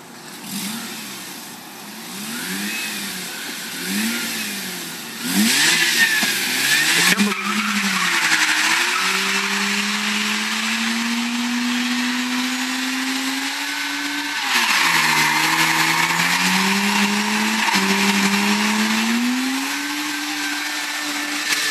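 A friend's Mazda RX8 rotary engine revs hard during a burnout, starting with rising and falling blips, then holding a loud, sustained high-rpm wail with shifting pitch and tire screech over about twenty seconds.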